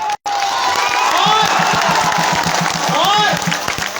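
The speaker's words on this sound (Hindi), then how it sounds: "मैं चाहता हूं कि जोरदार तालियों से इमरान भाई का इस्तकबाल करें" Large outdoor crowd at an election campaign rally in Raiganj cheering and clapping loudly and continuously, with whoops and shouts rising above a steady roar and rhythmic chanting underneath.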